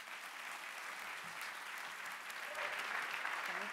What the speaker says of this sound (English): let's give a warm round of applause to Linda Levy